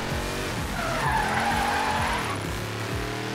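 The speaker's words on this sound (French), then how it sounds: "C'est comme ça qu'on drift." Drifting car in the Forza Horizon 3 racing game, engine droning steadily with a sustained tire squeal rising in the middle of the skid, loud and continuous throughout.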